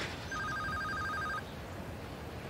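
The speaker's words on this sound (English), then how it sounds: "I'll answer the phone." An electronic telephone ringing once in a short warbling burst lasting about a second, moderately close, then quiet room tone with no talk.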